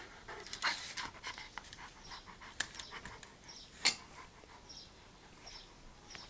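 A dog panting steadily at close range, quick rhythmic breaths with an occasional sharper sniff or whimper, no voices.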